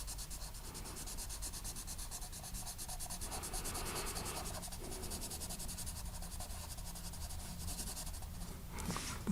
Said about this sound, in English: if I shade all of those in, again, I will use brown here